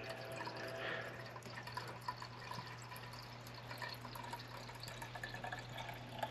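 Water running through a newly installed AC condensate drain line with a clean-out port, a steady faint trickle and gurgle with scattered drips over a constant low hum, with no talk.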